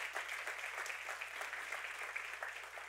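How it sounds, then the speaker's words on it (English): A church congregation claps its hands in steady, moderately distant applause, a dense even patter that holds for a few seconds without voices over it. "Give the Lord a hand clap for that."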